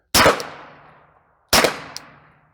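A PSA Dagger 9mm pistol fires twice at a steel plate. Each loud, sharp crack is followed by a long ringing decay, and the shots come about one and a half seconds apart.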